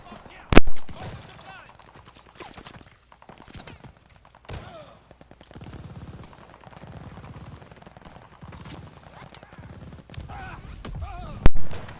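Assault rifle fire in Call of Duty Vanguard, with loud sharp shots at the start and end and scattered fainter bursts between, set amid busy game ambience with a voice talking.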